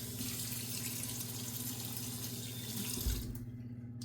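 A bathroom tap runs steadily into a sink during a razor shave, a close hissing splash with a low hum beneath, ending with a brief knock as the flow stops.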